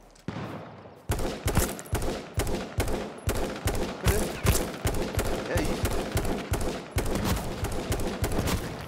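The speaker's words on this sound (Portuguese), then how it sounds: "Tá dando tiro aqui." Sustained automatic weapon fire in the video game Apex Legends, loud and close, hammering in rapid evenly spaced bursts almost without break for the whole stretch.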